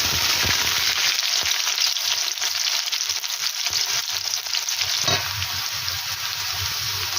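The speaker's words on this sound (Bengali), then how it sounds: "এখন নিয়ে নিলাম পেঁয়াজ কুচি এবং কাঁচামরিচ।" Chopped onion and green chilies dropped into hot oil with panch phoron, frying in a loud, dense sizzle that crackles steadily throughout, with a brief surge of bubbling partway through.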